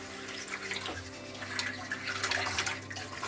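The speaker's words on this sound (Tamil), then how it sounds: "கொதிக்கிறதுல ஊற்றிடுங்க." A tender coconut water and cornflour mixture pours into a boiling pan for coconut halwa, a steady close liquid gush and bubbling over a low background hum.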